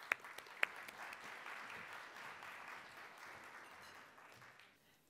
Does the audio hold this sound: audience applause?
yes